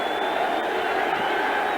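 A 1989 NFL stadium crowd at the Jets home game against the Colts roars steadily in support of the Jets defense, a dense, loud, continuous wall of cheering and shouting heard from a distance.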